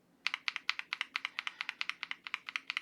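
Stock KTT Strawberry linear mechanical keyboard switches typed steadily, about twenty crisp, clacky keystrokes in an even rhythm, close and clear with no talk.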